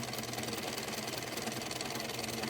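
Steady mechanical whir of a sewing machine stitching across the top of a fabric flap, continuous and even with a fast rhythmic chatter throughout, close up with no talking.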